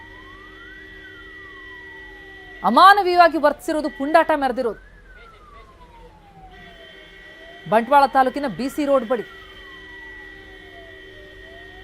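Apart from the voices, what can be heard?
ambulance siren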